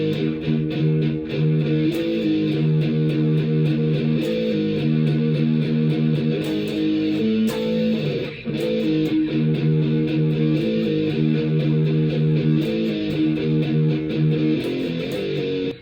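Heavily distorted electric guitar plays the 1987 Morbid "Wings of Funeral" riff at a slow practice tempo, steady sustained chugging notes continuous and loud throughout, with no talking.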